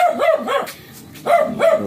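A shih tzu barks close and loud in a short burst of sharp yaps, pauses briefly, then lets out another pair of barks.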